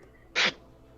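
A single short, sharp sneeze, close and abrupt, in an otherwise quiet room.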